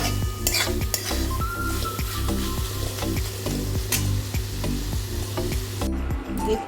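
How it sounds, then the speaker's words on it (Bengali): Bitter gourd and potato chorchori sizzles in a pan while a utensil scrapes and stirs in a steady rhythm, with occasional clinks against the pot, close and fairly loud, no talking. "করলা আলুর চচ্চড়িটা ভাজা ভাজা হয়ে গেছে"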